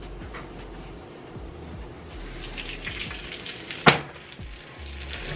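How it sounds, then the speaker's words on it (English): Pan-seared lamb chops sizzling steadily in a hot pan, a close, even frying hiss with one sharp clatter partway through. "You hear the sizzle on it?"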